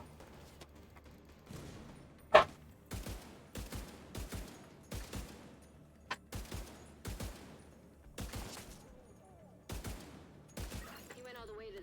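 Video game gunfire comes in a series of sharp, close bursts spaced a second or so apart, each a quick rattle of shots, with quiet gaps between and brief talking in places.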